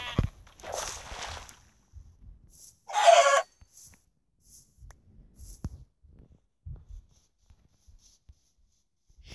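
Short bursts of a chicken in Minecraft, one raspy cluck near the start and another brief cluck shortly after, with soft footstep-like taps and quiet gaps between.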